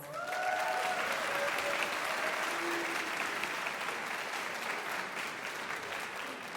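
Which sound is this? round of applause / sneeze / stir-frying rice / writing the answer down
round of applause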